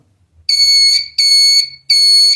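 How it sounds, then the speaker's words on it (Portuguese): Electronic buzzer component powered on a hobby electronics bench, giving three loud, piercing, steady beeps with short gaps between them, close and alone. "basta você alimentar o buzzer e ele já faz barulho"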